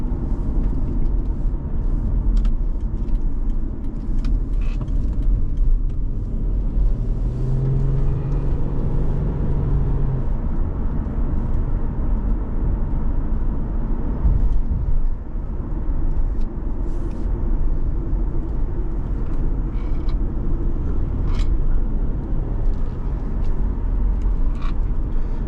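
A 2012 Subaru Outback 3.6R engine while driving, heard from inside as a steady, loud drone mixed with road rumble that holds throughout, with faint scattered ticks above it.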